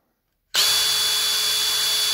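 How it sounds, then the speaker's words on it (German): An electric drill running in reverse, spinning a gear from a Sachs Speedforce, starts abruptly after silence and holds a loud steady whine close up. "da in Bohrmaschine eingespannt, Linkslauf und gib ihm"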